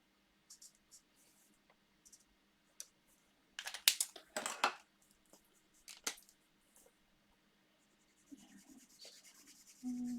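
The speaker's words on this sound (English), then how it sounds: "So quickly coloring one of each in the Granny Apple Green." A Granny Apple Green marker scratches and rubs across a card in short quick bursts of coloring, faint and close, with quiet gaps between the strokes.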